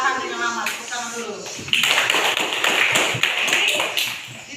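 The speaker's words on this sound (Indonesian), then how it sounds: "Tepuk tangan dulu." A classroom of students bursts into applause after a teacher's voice, a dense burst of clapping that carries on steadily to the end.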